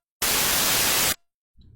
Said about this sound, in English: now in that spot, we have a 10 decibel clip of white noise